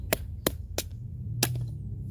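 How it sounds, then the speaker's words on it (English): A SOG Field Pup fixed-blade knife is hammered through a knot in a piece of wood, giving four sharp, separate strikes spaced unevenly over a low background hum, with no talking. "let's hammer through this thing again"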